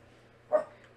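A single short dog bark, one of several dogs in a home, rings out once at moderate loudness over a quiet steady hum, then fades back to background.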